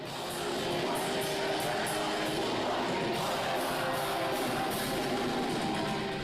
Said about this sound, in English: when thousands of Brazilians sing along to Portuguese language, it sounds like this